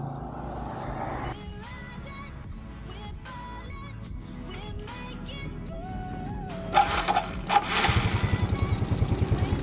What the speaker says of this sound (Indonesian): Oke, suaranya mesinnya halus.